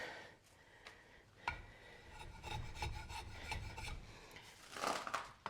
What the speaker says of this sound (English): I can probably do a little bit of rasp work here